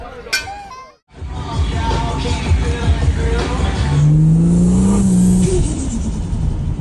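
A Ford Falcon XR6 ute engine revs and rumbles loudly and steadily for several seconds, with a rising pitch near the end, after a brief drop to silence.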